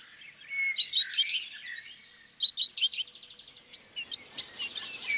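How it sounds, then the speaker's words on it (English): Black woodpecker, Europe's largest woodpecker, feeding its young in spring beech woodland of the Ligurian Alps; bright chirping calls come in clustered bursts, moderately near, with no talk. "The black woodpecker, the largest and rarest of European woodpeckers, is already busy feeding its young."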